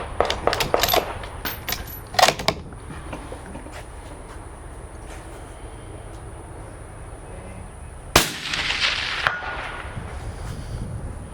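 A rifle with a thermal scope fires at long range during a Texas hog hunt, one sharp loud report cracking out late, after some earlier light clicks and handling noises over a steady outdoor background.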